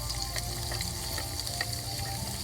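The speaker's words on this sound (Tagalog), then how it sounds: "nilagyan ko lang po siya ng butter. Ayan, kasi nagbabubble siya, kailangan continue yung halo" Butter melts into bubbling caramel sauce in a pan as it is stirred, making a steady close sizzle with small crackles and pops throughout, fairly quiet and with no talking.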